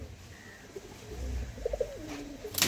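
Male domestic pigeon cooing at a home loft, a few soft low coos near the middle, faint over a quiet background, ending in a brief noisy rustle.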